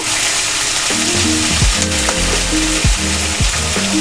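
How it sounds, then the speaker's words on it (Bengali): Onions soften in hot mustard oil for chicken tehari, giving a steady, even sizzle throughout with no talking. "এই পেঁয়াজটা একটু নরম হবে, বেশি ভাজা করব না"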